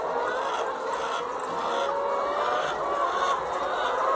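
Layer hens in battery cages on a poultry farm fill the space with dense, continuous clucking and squawking from many birds at once. The din is steady and loud throughout, with no talking.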